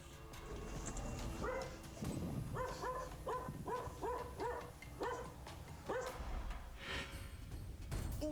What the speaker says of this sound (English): All you can hear is panting and barking.